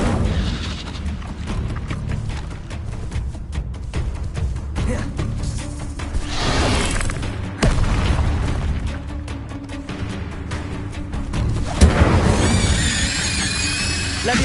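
Incendio fire spell cast in the video game Hogwarts Legacy, a dense run of booming bursts and crackling blasts over steady game ambience, with bright hissing flares near the middle and end.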